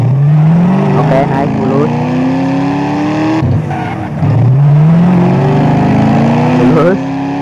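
Nissan Silvia S14 drifting in GTA San Andreas multiplayer, engine loud and close, revving in rising sweeps that drop and climb again, with tire and engine roar continuous while someone talks over it.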